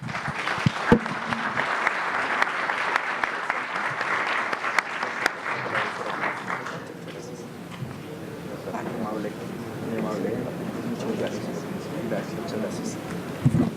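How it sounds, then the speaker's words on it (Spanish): Applause from a conference audience for about seven seconds, then fades into murmuring and scattered voices talking in a room. "les pido un aplauso para ellos"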